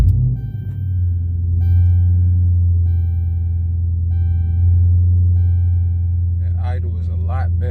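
A 2012 Chrysler 300S with a 5.7 Hemi V8, which has a throttle-response fault, cranks and fires up, then settles into a steady, deep idle rumble. Faint periodic chimes sound over the idle, and a voice speaks briefly near the end.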